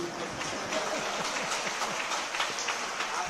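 An audience at a religious discourse claps in a brief, dense, fairly distant burst of applause that runs steadily for a few seconds.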